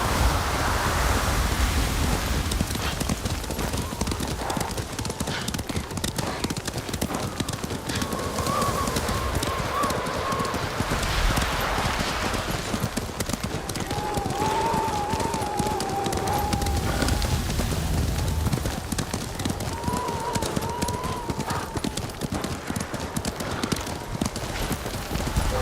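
Steady clip-clopping of horse hooves in Ghost of Tsushima runs throughout over a rushing background, with occasional brief voices heard now and then.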